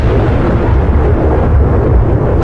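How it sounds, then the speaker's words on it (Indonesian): Thunder rumbles as a loud, continuous low roar that fills the whole span without breaks or voices. "Dari kejauhan, suara petir mulai menggema."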